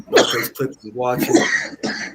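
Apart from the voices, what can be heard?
cough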